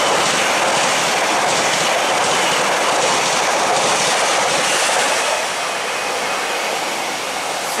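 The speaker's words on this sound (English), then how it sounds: "Now approaching, we have another class 331 going from Blackpool North to Liverpool Line Street" Class 331 electric multiple unit running from Blackpool North to Liverpool Lime Street, approaching near Layton as a loud steady broadband roar and rumble throughout, easing slightly toward the end, with no talk.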